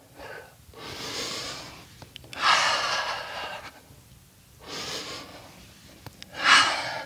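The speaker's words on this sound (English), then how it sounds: "Inhale down, exhale up." Slow, deep breaths during a yoga core exercise, four long airy inhales and exhales in a steady rhythm, close and clearly audible with no talking.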